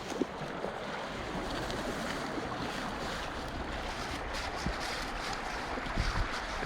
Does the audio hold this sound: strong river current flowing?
yes